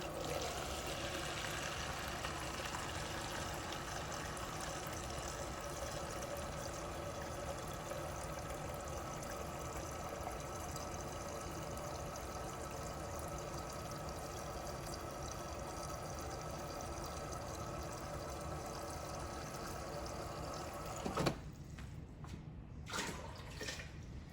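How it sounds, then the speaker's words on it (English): Water from a Frigidaire refrigerator's water filter runs into a cup in a long, steady hiss and stream that stops near the end, followed by a few faint clinks. "I'm probably going to run just a couple more cups through there to continue to flush that filter out a little better"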